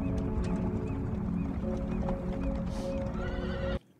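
Horses neigh and whinny loudly over continuous clip-clopping hooves, the sound cutting off abruptly near the end.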